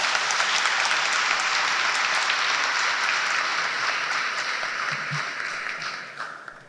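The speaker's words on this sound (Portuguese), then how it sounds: "uma salva de palmas para todo mundo" Loud, dense applause from a symposium audience on Black Consciousness, a sustained roar of many hands that holds steady for several seconds before gradually thinning and fading toward the end.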